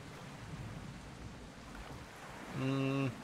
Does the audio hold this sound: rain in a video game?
yes